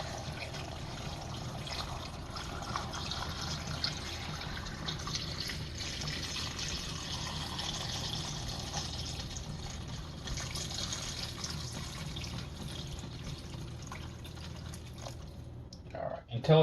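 Water is poured slowly and steadily into a soup pot already holding olive oil, chicken fat and wine, giving a continuous quiet trickle and fill sound that ends with a brief clatter.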